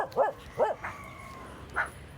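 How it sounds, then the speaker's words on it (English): Puppies give several short, excited yips and barks close by, two sharp ones in quick succession, a brief whine, then one more bark after a pause, while a coconut frond is being cut and woven into a hat. "I've got some puppies that are helping me here."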